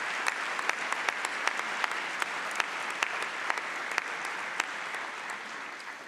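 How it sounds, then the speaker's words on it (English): Audience applause for retiring officers at an NAHT school leaders' conference: a steady wash of many hands clapping, with sharper individual claps standing out, sustained throughout at moderate distance. "Let's give them a clap for their wonderful service to the NHT."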